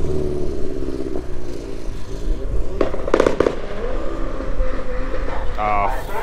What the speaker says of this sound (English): Looks like Lyle just blew his motor.